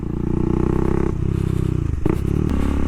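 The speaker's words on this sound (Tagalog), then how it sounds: "So itong bike na to, obviously naka aftermarket exhaust na siya kasi yun, maingay nga eh." Bajaj Dominar 400 motorcycle with a loud aftermarket exhaust, a deep, bassy, throbbing engine note heard up close while riding, with a brief dip and rise in revs near the end and no speech.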